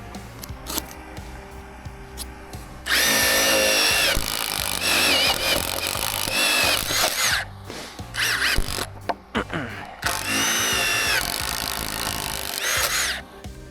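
An impact driver runs at a building site for a custom home in two long bursts of loud, rattling whir with faint background clatter and brief pauses between them.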